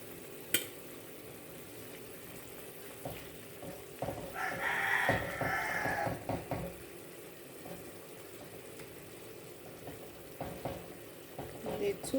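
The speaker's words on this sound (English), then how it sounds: "There goes the roosters." A rooster crows once in the background, a short rising call heard faintly over kitchen sounds as chicken pieces are added to a pot with tomato sauce.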